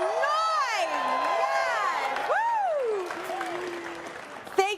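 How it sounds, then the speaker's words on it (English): An arena crowd at a Las Vegas Fortnite tournament cheers and applauds loudly, with high whooping voices rising and falling over a constant roar. "Can I hear the crowd for the people who have come here tonight, baby? Let's make some noise."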